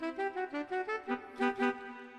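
An electronic keyboard plays a short passage from a song at normal tempo: a clear run of about ten even melody notes over harmony, alone and fairly soft.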